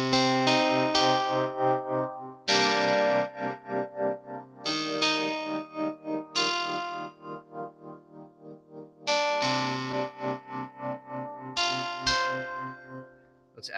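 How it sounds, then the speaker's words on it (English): Lo-fi organ preset on an Arturia MicroFreak synthesizer played paraphonically, sustained chords with a distorted, chorused tone and wobbling tremolo, changing every couple of seconds, with no voices. "This is a lo-fi organ, and it uses the paraphonic ability."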